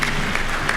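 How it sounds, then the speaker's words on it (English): Audience applause at a university graduation ceremony, a steady wash of clapping from a large crowd throughout, close and even with a couple of slightly louder bursts. "Wapi makofi ya ndugu yetu"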